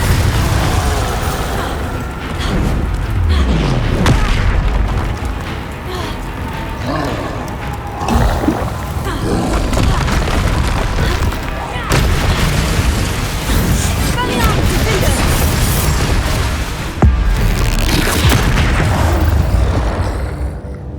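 Confringo spell explosions in the Hogwarts Legacy video game during a fight with a troll, heavy booming blasts and bursts over a dense, loud game soundtrack with continuous action noise and a voice calling out.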